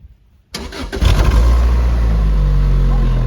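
A 2007 Lotus Elise 111R engine cranks and catches after a brief quiet pause, then settles into a loud, steady rev that holds close and strong to the end.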